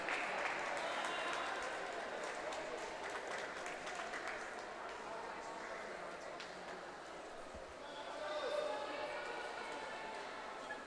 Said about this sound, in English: getting a lot of encouragement from the crowd.